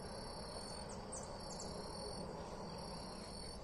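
Crickets chirp in a steady high trill, with a few short bird-like chirps layered over a constant outdoor hiss, in the woods.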